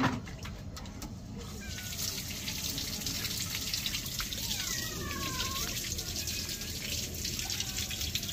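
Running water from a tap pours steadily as fish is washed, a continuous close splashing with trickles and a few drips, while bird-like chirps sound faintly in the background.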